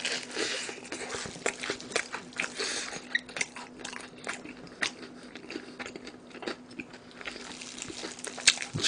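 Crunchy Goobne fried chicken, including volcano drumsticks and honey combo pieces, bitten and chewed close to the mic in a mukbang, with crisp crackling bites and wet chewing clicks repeating steadily throughout.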